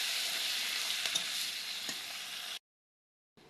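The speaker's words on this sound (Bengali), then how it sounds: "পেঁয়াজটা একটু হালকা লাল করে ভেজে নেব" Chopped onion fries in hot oil with bay leaf and whole spices, giving a bright, dense, continuous sizzle for a couple of seconds before cutting off abruptly into silence.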